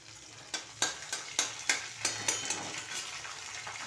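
Onion frying in a pan with curry leaves until brown, a steady close sizzle broken by a string of sharp scraping stirs about every half second.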